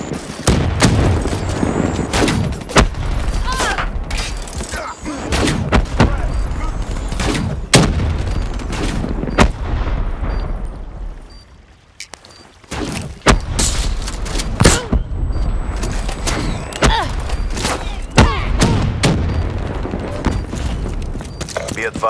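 Black Ops 3 multiplayer combat: dense gunfire crackles throughout, with booming impacts that fit a frag grenade blast, a brief lull near the middle, and voices talking over the action.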